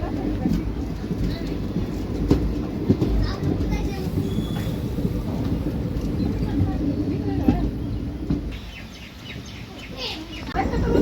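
The 11414 Nizamabad Express running out of Latur Road, heard from inside a coach: a steady low rumble and rattle with voices nearby, a few clanks, and the noise easing briefly near the end.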